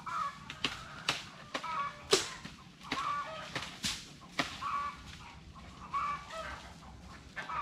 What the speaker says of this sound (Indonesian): Suara ayam kedengaran ya, berkokok.